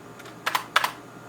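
Keys on a Convergent Technologies NGEN computer keyboard, whose shift keys don't work, clack in two quick pairs of crisp strokes, close and clear over a quiet room hiss.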